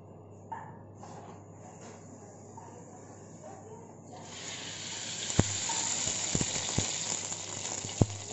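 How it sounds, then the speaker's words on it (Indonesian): Potatoes for a red chili sardine dish are fried in hot oil: after a few seconds of quiet kitchen noise, a steady sizzle rises and continues close by, punctuated by a few sharp clicks and clatters. "Panaskan minyak untuk menggoreng"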